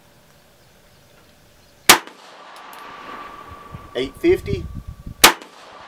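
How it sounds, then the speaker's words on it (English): Two sharp, loud gunshots ring out a few seconds apart as 158-grain subsonic rounds are fired without a suppressor, with a short spoken remark between them. "now we're going to try the 158 grain Subsonics without the suppressor"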